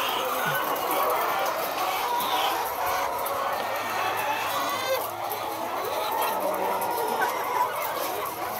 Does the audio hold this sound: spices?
no